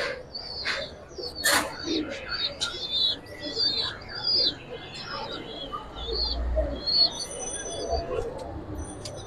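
Giribaz pigeons call with soft low coos and scattered chirps, set against a busy background with other birds twittering. Faint voices murmur in the background.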